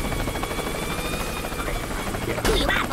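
Helicopter rotor drone from the video game Worms W.M.D, a steady buzzing hum running throughout with game effects breaking in near the end over a noisy background.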